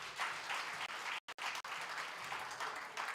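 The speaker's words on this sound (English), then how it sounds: "So let's give all of them the round of applause." An audience at a youth employment workshop claps, a steady dense round of applause from many hands filling the room, briefly cut by a couple of short dropouts.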